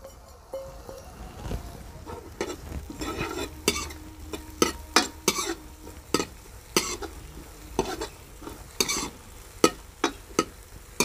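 Finely chopped garlic and onion fry in a pan in a Punjabi village home kitchen, a steady sizzle broken by repeated scraping and stirring clatters of a spoon against the pan.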